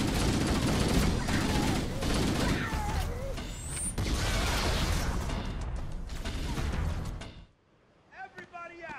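Covenant stationary gun firing in Halo: Combat Evolved, a dense, loud barrage of rapid shots mixed with battle noise and shouting voices, cutting off near the end to quieter chatter.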